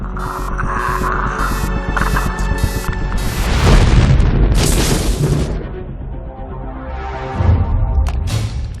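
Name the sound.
Predator suit self-destruct explosion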